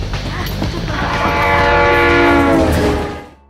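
A train in a film scene rumbles loudly and close, with a sustained horn-like tonal blare swelling in the middle and fading as the passage ends.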